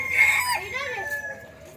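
A rooster crows at an eco resort's bird area, a single moderately loud call rising and trailing off, heard with low background noise and faint voices nearby.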